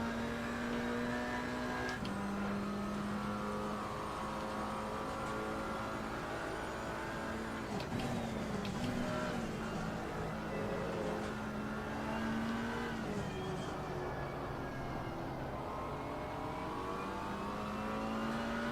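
A GT4 race car in Assetto Corsa Competizione at Suzuka, engine droning steadily under load with pitch dipping and climbing through gear changes and corners, heard continuously from the cockpit.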